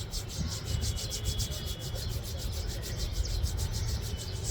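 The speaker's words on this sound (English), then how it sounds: "Then rub your palms." Palms rubbed briskly together during a Reiki exercise, making a steady, close, rhythmic swishing friction with no speech.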